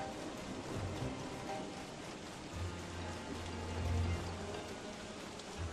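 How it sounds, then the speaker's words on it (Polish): Steady rain falls in the survival video game Don't Starve, a soft, continuous hiss of drops with occasional low rumbles underneath, heard alone at low volume. "Nie dość, że zimno, to pada"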